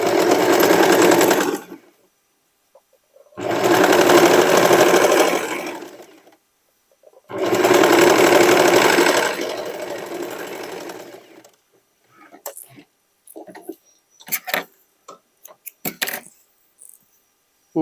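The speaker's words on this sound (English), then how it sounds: "And here I will make another stitching." A sewing machine stitching a dress made from sweatshirt and denim scraps runs in three loud, steady whirring bursts of a few seconds each, followed by scattered clicks and brief mechanical taps.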